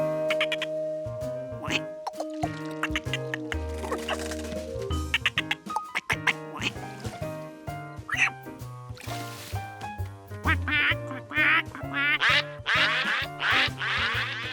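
Cartoon ducks at a pond quack in quick, lively bursts, layered over bouncy animated music with plucked and tonal notes, the quacks growing busier and more frequent toward the end.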